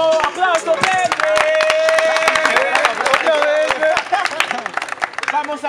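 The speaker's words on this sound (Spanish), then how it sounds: "¡Aplauso, Pepe!" Crowd clapping and cheering at a Spanish-language rap battle held in a market, loud and close, with voices shouting over the applause throughout.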